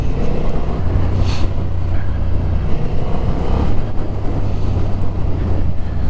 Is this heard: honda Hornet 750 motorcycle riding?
yes